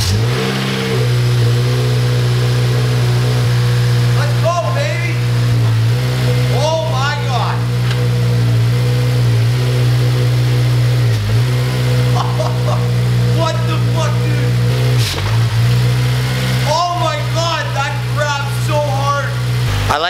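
A Honda Civic Si engine, freshly fitted with a replacement clutch, runs loud and close, settling into a steady idle broken by several sharp revs, with a voice talking over it.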